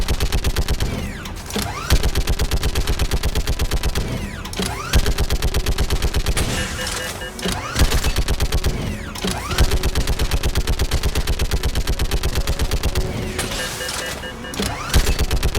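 Turret gunfire in Mass Effect Legendary Edition: loud, rapid, continuous automatic bursts that run for several seconds at a time, broken by short pauses, up close.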